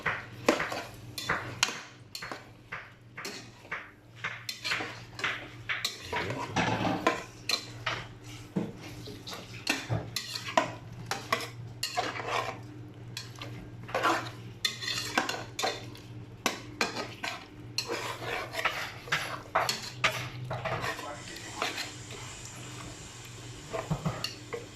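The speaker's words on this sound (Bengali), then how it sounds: "চিকেনটা দিয়ে আগে কষিয়ে নেবেন সুন্দরভাবে।" Chicken being fried and stirred in a pan for a roast korma, with a metal spoon scraping and clinking against the pan in a steady run of close, sharp strikes over a low, continuous sizzle.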